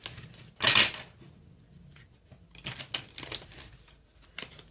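A tarot card deck being shuffled indoors, with a loud burst of riffling card noise early on, then several softer, scattered card shuffles and taps in fairly quiet surroundings.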